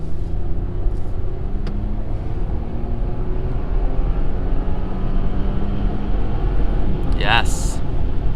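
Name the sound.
2021 Audi Q8 accelerating on highway in dynamic mode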